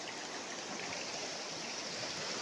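A river flows in a steady, dense rushing wash of water, continuous and even with no breaks.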